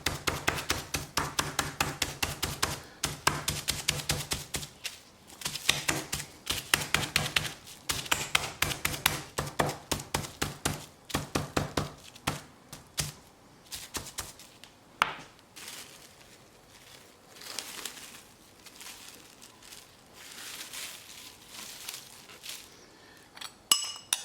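A meat tenderizer pounds butterflied chicken breast through plastic wrap, a dense run of sharp, fast taps with clinking overtones in steady bursts for the first half, then sparser, quieter strikes toward the end.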